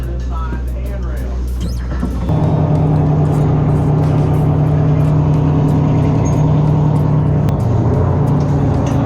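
A dive boat's engine pulling away from the dock at a Panama City dive center, swelling into a loud, steady, close diesel rumble that continues without pause, with people talking faintly beneath it.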